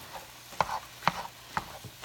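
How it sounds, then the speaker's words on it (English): Ground meat browning in a pan for freezer meals, stirred in a few distinct scraping strokes about half a second apart over a faint sizzle, close and fairly quiet, with no talking. "So I'm just getting the meat browned."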